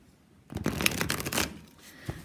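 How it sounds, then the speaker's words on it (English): A deck of Santa Muerte tarot cards is riffled once close by: a quick, crisp flutter of cardstock lasting about a second, then settling with a soft tap, fairly quiet overall. "Still, let's give it a riffle."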